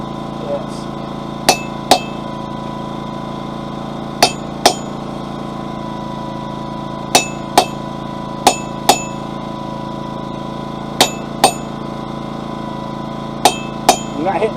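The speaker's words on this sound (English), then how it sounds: "heat, right on this anvil, then I'm going to pull up the soft anvil so I won't ruin my tool or mark this one up too bad." A hand hammer strikes a fire poker on an anvil at a forge, sharp ringing metallic blows mostly coming in pairs at irregular gaps, over a steady roaring forge hum.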